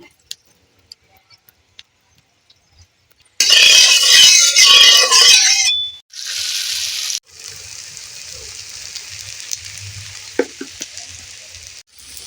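Sesame fritters sizzle in hot oil in a wok, starting after a few seconds of quiet clicks with a loud, crackling burst. The sizzle briefly cuts out, returns strongly, then settles into a steadier, softer bubbling hiss with occasional clinks.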